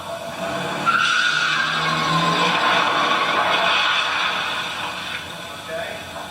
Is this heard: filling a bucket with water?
no